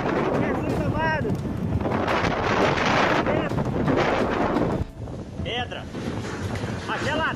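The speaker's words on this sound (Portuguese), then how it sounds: "Vento muito forte, meu Deus do céu." A very strong wind blasts outdoors in a storm, roaring and buffeting the microphone in loud continuous gusts that ease slightly near the end, with shouting voices heard over it.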